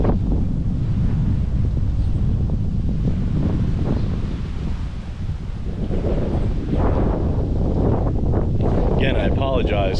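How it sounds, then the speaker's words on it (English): Strong wind buffets a microphone outdoors at a hilltop spot above a beach in Guavate, Puerto Rico, producing a constant, loud low rumble that fills the whole stretch. "Again, I apologize for the wind."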